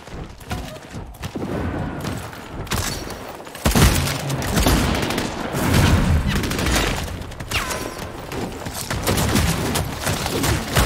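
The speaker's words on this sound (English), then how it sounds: "They're shooting at me on the roof." Rapid bursts of gunfire in the Apex Legends video game, loud and dense, with repeated shots, booms and volleys overlapping throughout.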